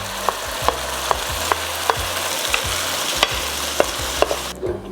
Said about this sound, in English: And we're going to cook these tomatoes until they start to reduce.